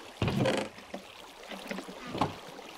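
Flowing water in a Minecraft Bedwars match, a steady watery wash with a few louder sloshing bursts, heard alone with no talk.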